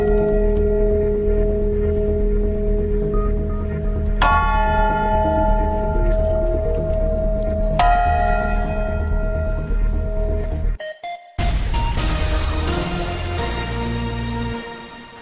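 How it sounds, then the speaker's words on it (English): A bell in the buffer zone in Nicosia is struck twice, each clang ringing out with a long shimmering decay over a steady low hum before the sound cuts away. "And why is this bell in the buffer zone in Nicosia?"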